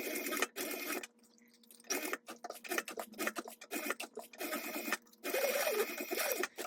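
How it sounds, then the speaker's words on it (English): Domestic sewing machine back stitching over nylon webbing on a sling tab, running in short bursts separated by brief pauses, close and fairly loud with no talking. "I'm going to back stitch over my webbing."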